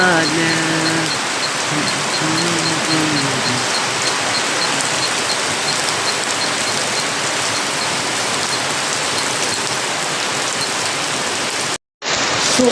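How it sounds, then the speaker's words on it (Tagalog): Heavy rain pours steadily and loudly on a farm at night, a dense continuous roar close by, with a brief voice early on and a sudden short cutout near the end. "Ay super lakas ng ulan."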